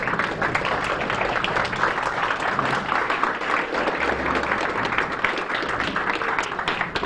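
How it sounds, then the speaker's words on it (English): A luncheon audience honouring Ken Fischer's retirement, hosted by the Kiwanis Club of Ann Arbor, gives warm, steady applause, a dense, even wash of many hands clapping throughout at moderate volume. "let's give Ken a warm applause."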